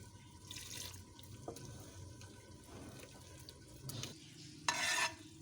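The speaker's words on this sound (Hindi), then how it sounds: "इस तरीके से थोड़ा थोड़ा आप पानी शामिल करते जाएं इसमें और इसका अच्छा सा थिक बैटर बना लें" Water trickles and splashes into corn flour batter for makki ki roti, added bit by bit and stirred, with soft clinks near the end and a brighter splashy burst, close and fairly quiet.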